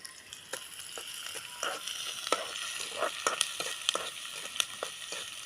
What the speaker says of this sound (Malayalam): ഉള്ളി നല്ലോണം മൂത്ത് വരട്ടെ